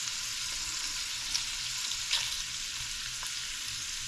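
Pork belly pieces frying in a pan for Chinese-style pork belly, a continuous bright sizzle with small pops and crackles, close and even throughout, with no talking.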